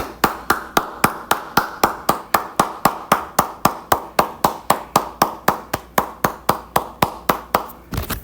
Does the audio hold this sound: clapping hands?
yes